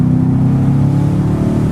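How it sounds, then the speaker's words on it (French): The 4-litre V8 of a Mercedes C63 S AMG convertible, rear-wheel drive with 510 horsepower, roars steadily under hard acceleration, deep and loud, with a rich rumbling exhaust note throughout. "la voiture elle pousse et le son il est vraiment là du 4 litres V8"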